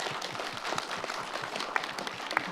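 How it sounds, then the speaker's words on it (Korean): An audience at a talk concert breaks into faint, scattered applause, with some individual claps standing out from a distant, steady patter. "여러분 박수 한번 나와야 되지 않을까요?"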